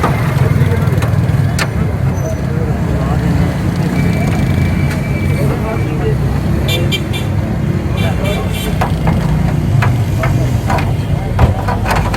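A Daihatsu Charade car engine runs steadily with a low rumble, close by and continuous under street traffic noise, with people talking over it and a brief horn toot.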